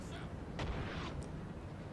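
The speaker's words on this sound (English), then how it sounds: "The cannons are now engaging." Cannon artillery fires in a Napoleon: Total War battle, with two muffled, distant booms over a low, constant rumble of battlefield noise, with faint talk.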